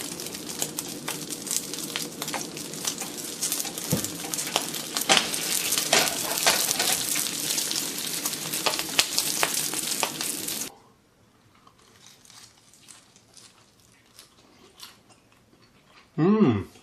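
Bean curd sizzles loudly in oil on a restaurant grill in a Chinese kitchen, a dense crackling hiss for about ten seconds, then it drops to faint background noise before a brief voice near the end.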